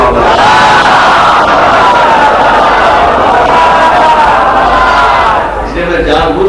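A large crowd at a Shia majlis gathering in Mumbai chants religious slogans, a loud, sustained roar of many voices that carries almost to the end before briefly dipping.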